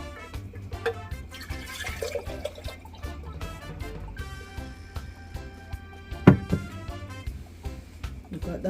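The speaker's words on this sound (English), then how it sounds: "So guys, we are gonna pour out" Homemade juice drink poured out into a glass, a running liquid trickle and splashing under background music, with one sharp clink partway through.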